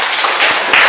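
A class of students in an Islamic religious education lesson breaks into applause, a brief, loud, dense burst of clapping heard up close.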